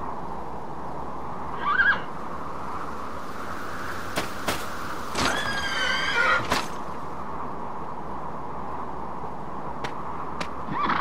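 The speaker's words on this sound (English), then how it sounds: "At first I saw only a horse." A horse in the video game Dragon Quest VIII gives a couple of short whinnies amid a steady background hum, with sharp clicks and a brief rattling burst in between.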